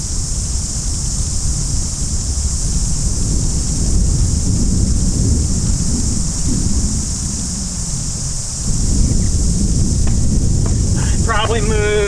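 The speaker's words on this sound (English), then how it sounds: "The wind is making this really hard for me" Strong wind buffets a microphone outdoors beside a river on New Zealand's South Island during a fly-fishing trip, a loud, steady low rumble that swells again near the end, with a brief voice at the close.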